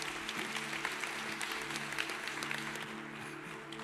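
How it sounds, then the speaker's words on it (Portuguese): A church congregation applauds steadily in a large hall, dense clapping at moderate volume throughout, with a sustained musical tone or organ hum underneath. "Aplauda Jesus pela coragem deles."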